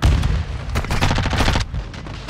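Rifle fire from Call of Duty: Modern Warfare II on PC, a loud rapid burst of closely spaced shots that stops abruptly, leaving a short echoing tail.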